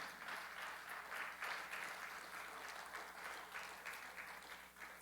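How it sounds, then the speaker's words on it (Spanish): A church congregation at a Pentecostal theology class claps steadily for several seconds, a dense, sustained applause that ends with one sharp louder clap. "Denle un aplauso a nuestro Dios,"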